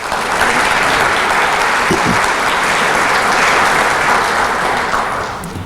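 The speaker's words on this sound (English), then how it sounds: "Please give them a round of applause." Audience applause at a 2018 State of the Town event, loud and sustained clapping from a large crowd filling the room for several seconds before tapering off.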